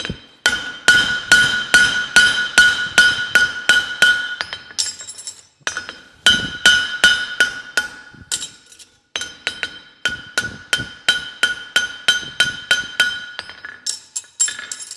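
A blacksmith fullers hot metal while forging, striking it with a fuller in rapid bursts of sharp, ringing hammer blows. Short pauses fall between runs of about a dozen evenly spaced metallic hits.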